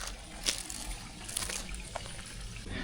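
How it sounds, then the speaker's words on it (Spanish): Water runs down a mountainside in Venezuela, a soft continuous trickle and light splashing heard faintly at a distance beneath outdoor background noise. "el agua que baja aquí por la montaña"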